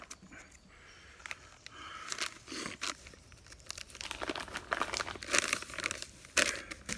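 Kenko resealable plastic bags handled up close outdoors in the woods, with steady crinkling and crumpling rustles and a few louder crackly bursts, no talk.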